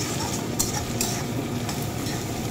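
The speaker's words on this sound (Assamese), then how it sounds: "ধুনীয়াকৈ আদা নহৰু পেষ্টটো ধুনীয়াকৈ ভাজি ল'ম" Coarsely pounded ginger garlic paste fries in hot oil in a pan, a steady sizzle punctuated by a few sharp clicks of a spoon stirring against the metal.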